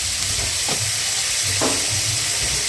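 Raw onion frying in a pan for an egg chicken pasta, a steady close sizzle and hiss throughout with a few soft stirring scrapes, no talking.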